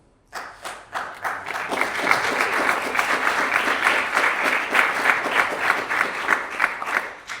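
Conference audience at a Bitcoin payments event breaking into applause, starting abruptly from near silence and building into sustained, dense clapping with a few louder thumps, continuing steadily without speech.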